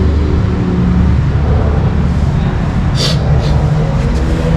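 A 2023 Kawasaki Ninja ZX6R fitted with an MIVV exhaust gives a steady, close, low droning engine note throughout, with a couple of short hissy bursts on top.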